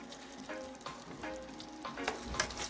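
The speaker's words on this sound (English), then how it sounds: "So my stove was on medium heat while this was simmering down." Chicken with broccoli and okra cooks in a pan on the stove over medium heat, a close, busy sizzle broken by stirring clatter and a few brighter utensil knocks.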